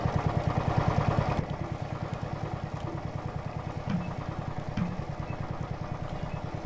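A tractor engine in Farm Mechanic Simulator chugs along at a steady mid-pitched idle-like rhythm, with a louder rev at the start and faint clanks scattered through, no voices.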